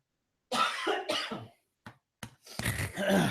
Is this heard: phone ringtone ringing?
no